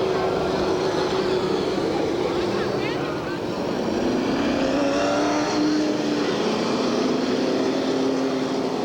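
Race cars circling the track at Ukiah Speedway (Redwood Empire Raceway) in 1985 during pre-race lineup, a steady blended engine roar with rising and falling tones as cars pass, heard at a distance with a commentator speaking over it.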